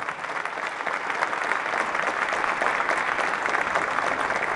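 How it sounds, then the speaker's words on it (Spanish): Applause from legislative officials right after the swearing-in of the new Comptroller General of the State in a legislative session, a steady, dense clatter of many hands sustained throughout without speech. "Los aplausos y las felicitaciones por parte de las autoridades legislativas al nuevo Contralor General del Estado"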